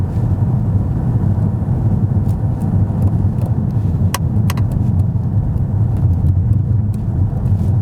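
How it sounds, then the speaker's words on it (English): A 2015 Porsche Panamera S eHybrid drives in full electric mode, with a steady low road and tire rumble filling the cabin and a few faint clicks, but no engine note and no talking. "So right now the car is in full electric mode."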